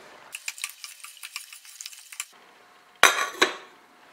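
Spoon stirring sugar into homemade lemonade in a glass, a run of light rhythmic clinks and scrapes followed by a pause, then two louder knocks near the end.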